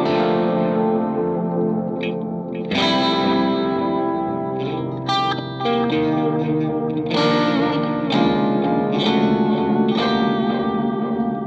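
An electric guitar played through an Eventide Timefactor delay pedal rings out in chords and single notes, each attack trailed by repeating echoes and a wash of reverb, loud and without talk.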